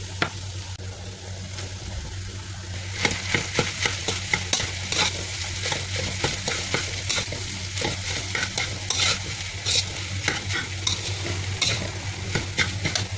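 Rice stir-fried with ginger and salted vegetables in a hot pan, a steady sizzle broken by repeated scraping and tapping strokes of a utensil at an irregular rhythm, close and clear with no talking.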